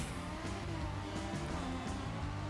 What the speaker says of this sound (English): The sound design on the engines of these cars is so good.